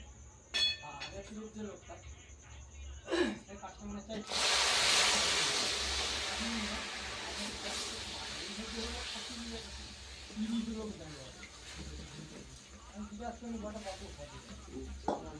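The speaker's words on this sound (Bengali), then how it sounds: "গুড়ের মতো লাল হয়ে গেছে রংটা, এই আমি দুধটা ঢেলে দেবো" Milk poured into a hot caramelized rice and jaggery-coloured mixture while making sandesh, a loud sudden hiss that slowly fades, close, with intermittent speech before and after.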